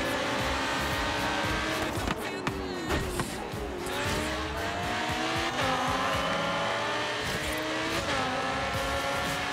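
Race car engine roaring at full throttle in Forza Horizon 3, with rising and falling gear-change sweeps and brief tire squeal, loud and continuous throughout.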